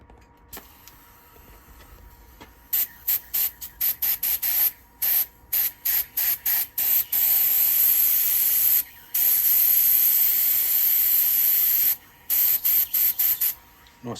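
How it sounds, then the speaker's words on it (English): Black aerosol spray paint hisses onto a woodturned bowl in a series of short, rhythmic bursts, then longer continuous sprays with brief pauses, close and steady. "That's all the spraying finished with."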